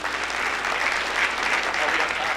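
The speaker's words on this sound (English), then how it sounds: "Give yourself applause for coming out and spend the day" Audience applause fills the room at a daytime river forum, a dense, steady wash of many hands clapping at even loudness throughout, with no voices standing out above it.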